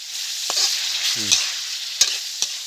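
Southern Thai spicy pork stir-frying in a pan, a continuous oily sizzle broken by a few brief scrapes and clicks of a utensil, close and alone.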